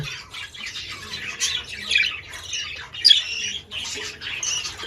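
Harsh, scratchy squawks from several young pet birds in a nest box, close and repeated in uneven bursts, with no talking.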